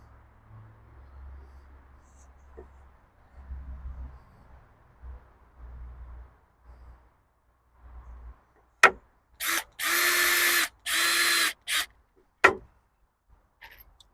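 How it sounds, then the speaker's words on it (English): A power drill pre-drills into a wooden greenhouse door piece, giving several short whirring bursts, with one sustained run in the middle, close and loud after quiet handling noises. "I'm gonna drill it."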